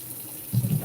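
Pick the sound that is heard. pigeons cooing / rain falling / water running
water running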